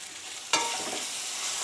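A mixture is stirred in a hot pan, crackling and popping as it fries, with a sharp sizzling burst as it hits the oil followed by a steady hiss; close and fairly quiet, no talking.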